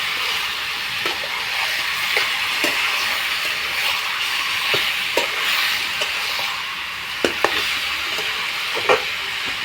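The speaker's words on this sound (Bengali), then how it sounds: "ম্যারিনেট করে রাখা মাংসটা দিয়ে দেব। দিয়ে কষতে থাকবো।" Marinated chicken pieces sizzle steadily in a hot pan for a red Bengali chicken curry, with the occasional scrape and clack of a spoon stirring them, close and continuous.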